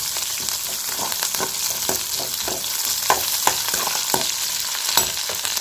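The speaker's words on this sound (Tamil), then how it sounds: "அதை சேர்த்து அதையும் நல்லா வதக்கி வச்சுக்கலாம்" Constant hiss of green chillies and curry leaves sizzling in hot oil, with regular scraping stirs of a spoon in the pan, loud and close.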